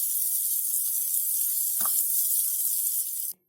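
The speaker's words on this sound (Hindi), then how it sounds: "एक पैन पे मैंने घी डाला थोड़ा सा, और अब इसमें मैं स्लाइस गरम करने लगी हूँ।" Bread slices heat in a little ghee in a pan, giving a steady close sizzle for about three seconds, with a brief soft scrape partway through, before the sound cuts off abruptly.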